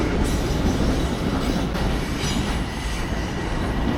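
A metro-style train on third-rail track in Queens, New York, rumbles past close by in a continuous loud roar of wheels and rail noise with faint clicks and squeals.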